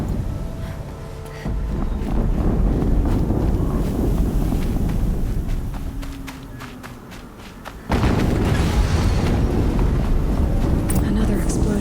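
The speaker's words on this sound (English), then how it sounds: "Another explosion." Explosions in the PS4 game Horizon Zero Dawn: a wind-like rushing rumble carries low thumps, then a sudden, loud, full-bodied boom kicks in near the end and sustains.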